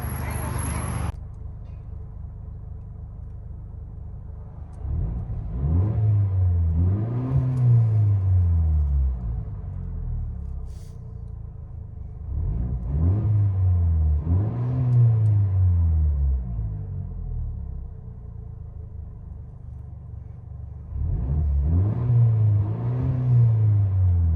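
A 2022 Mercedes GLC 300 with a 2.0L turbo and straight pipes revs three times from idle, each rev a rising and falling rumbling growl, close and loud over a steady idle burble.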